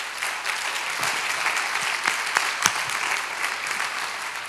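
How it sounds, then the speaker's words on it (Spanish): Congregation applause in a church service, a continuous moderate patter of many hands with a few sharper individual claps standing out, lasting several seconds at an even level. "Denle el aplauso al Señor"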